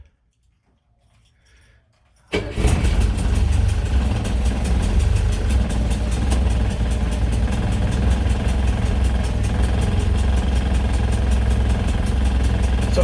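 A military Pinzgauer engine cranks and catches after two seconds of near silence, then settles into a loud, steady, close rumbling idle.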